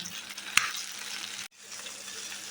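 Chicken for adobo browns in a covered pan with a steady, fairly soft sizzle, a single sharp clink just after the start and a brief break before the frying hiss continues.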